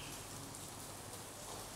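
Rain falls steadily on a rainy afternoon, a soft, even hiss of drops with no pauses or other sounds.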